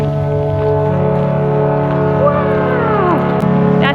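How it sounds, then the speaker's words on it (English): A riverboat's deep departure horn sounds the five-minute warning at a New Orleans dock, one long steady blast rising to a loud sustained tone, with a brief whistle-like sweep near the end. "That's the 5-minute alarm that the boat is going to be leaving."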